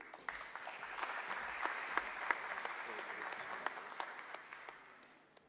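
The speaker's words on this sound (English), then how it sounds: "Can we have a round of applause, please?" Audience applause at the KwaZulu-Natal Trade & Investment Indaba for World Halal Day, a steady even wash of many hands clapping at moderate distance that holds throughout and eases slightly at the close.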